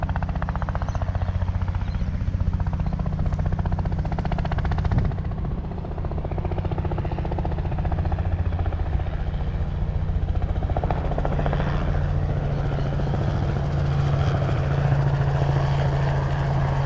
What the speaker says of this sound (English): a helicopter's coming over us